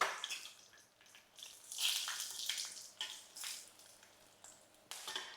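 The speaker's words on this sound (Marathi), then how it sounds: "कशी फोडणी झाली आहे बघा मस्त" Garlic, curry leaves and red chillies crackling and sizzling in hot oil for a tempering, a steady close spitting hiss with sharper pops and swells throughout.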